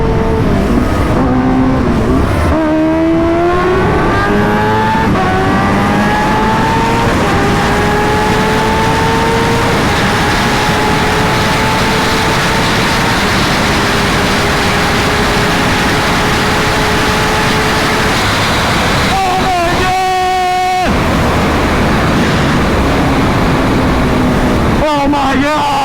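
Kawasaki Ninja H2R supercharged motorcycle ridden at high speed, with a loud, sustained engine roar whose pitch climbs steadily through the gears, punctuated by brief drops at shifts and heavy wind rush; a rider's voice breaks through in places.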